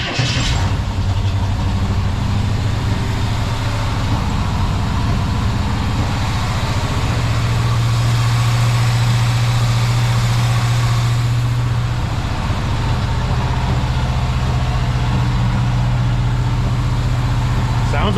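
Squarebody truck idling after a new exhaust system and headers were fitted, a loud, steady low rumble that continues throughout with a slight rise in pitch partway through; a voice is heard under it.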